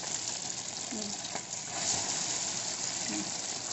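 Chicken sizzling steadily in hot oil, a dense continuous crackle with a faint voice briefly in the background.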